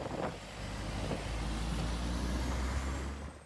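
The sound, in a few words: snow plow trucks clearing roads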